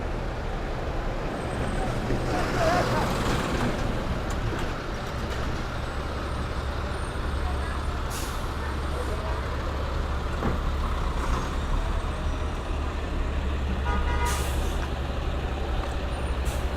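Heavy trucks rumble past on a busy New York City street on a Friday afternoon, with a steady low traffic roar, a couple of sharp air-brake hisses and general street noise throughout.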